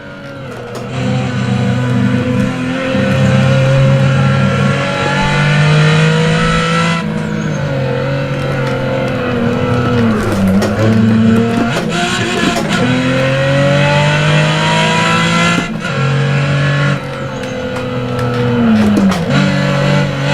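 Toyota Supra race cars in the Assetto Corsa racing game, with loud, continuous engine roar that rises and falls as the cars shift and rev, plus brief tire squeal, heard alone without talk.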